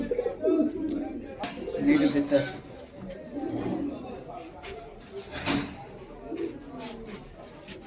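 Pigeons coo intermittently at a pigeon shop in Boro Bazar, Khulna, the soft calls mixed under steady nearby conversation.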